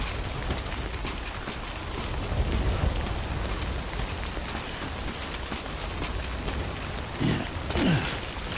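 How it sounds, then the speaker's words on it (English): Steady timefall rain pouring in the Death Stranding video game, a dense continuous hiss of drops with a few low rumbles and brief heavier splashes. "Don't stay out in the rain any longer than you have to."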